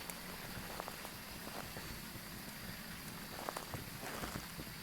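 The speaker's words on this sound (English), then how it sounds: "Yes, it is pouring rain" Steady pouring rain in the video game Phasmophobia hisses across the whole stretch, with scattered sharper drops and patters standing out now and then.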